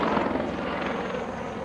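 A helicopter reversing direction at the Duxford Autumn Air Display 2011 gives off a steady, fairly loud rotor-and-engine drone with a rough, pulsing texture, heard alone without commentary.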